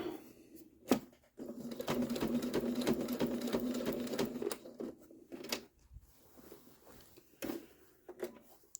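A sewing machine runs a steady, close stitching burst while backstitching over the first few stitches of a self-bound doll quilt, then stops, leaving scattered handling clicks and light rustling.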